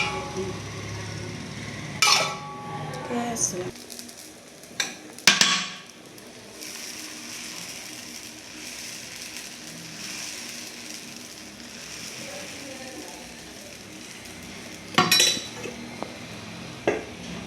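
Quiet kitchen sounds while dosa cooks on a pan: a few sharp metallic clinks and scrapes of a utensil on the pan, separated by long stretches of low background hiss.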